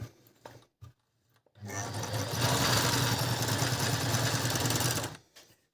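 A Brother LS-1217 sewing machine starts up after a couple of brief knocks and runs steadily at close range for about three seconds with a dense, whirring mechanical drone, then stops.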